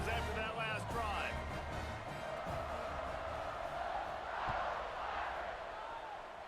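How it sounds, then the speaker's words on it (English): A stadium crowd in a football video game roars and cheers in a broad, continuous wash of voices, with a few whoops rising above the din and talk underneath. "this crowd is feeling themselves after that last drive"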